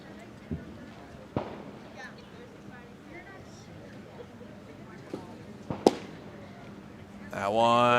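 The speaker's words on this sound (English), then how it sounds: "I think we hear some fireworks popping off somewhere in the distance, or maybe really close." Scattered fireworks popping at a baseball game, a handful of sharp isolated bangs spaced irregularly over quiet crowd ambience, followed by a voice starting up at the end.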